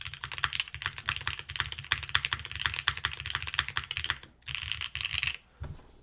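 Fast, steady typing on an Aepex60 custom mechanical keyboard with a bassy tone, dense clacking keystrokes up close, a brief pause near the end, then a final burst.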